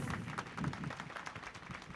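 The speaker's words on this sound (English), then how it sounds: "Let's give him a round of applause as he comes." An audience at a children's town hall applauds to welcome a speaker, a soft, distant patter of many hands clapping steadily for a couple of seconds.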